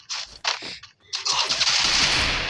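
Rapid bursts of MP submachine gun fire in the Free Fire video game, several short clattering volleys at first, then a sustained loud stretch of continuous shooting.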